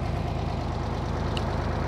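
A 45-horsepower tractor, occasionally puffing black smoke, mowing grass in a vineyard: a steady, close, low diesel chug with a regular pulsing rhythm and no voices.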